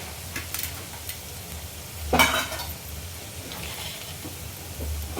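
Whole spices, cumin and mustard seeds, hit hot oil for tempering, giving a soft sizzle and a brief louder spatter burst, with faint stirring and pan clinks in a quiet kitchen.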